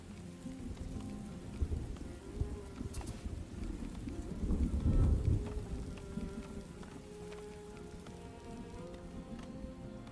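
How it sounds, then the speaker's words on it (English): Steady rainfall from the colony-building survival game Farthest Frontier patters softly, with scattered drops and a low rumble swelling near the middle before settling back to a quiet, even patter. "Look at that. That rain."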